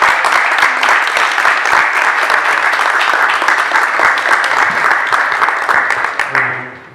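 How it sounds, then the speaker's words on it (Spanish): Loud, dense applause from a lecture audience welcoming a speaker on Sophocles, sustained close clapping that fades out at the end. "les pido por favor un aplauso para Luciano"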